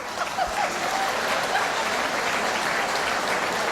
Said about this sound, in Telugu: వీళ్ళు కనపడిన వాళ్ళు గట్టిగా చప్పట్లు కొడదామా?